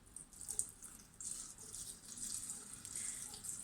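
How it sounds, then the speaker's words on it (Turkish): Water pours steadily into a 5-litre jar of apples for homemade apple vinegar, a soft continuous splashing and trickling stream heard close and fairly quiet, with no talking. "Şimdi üzerine örtecek kadar suyumuzu katacağız."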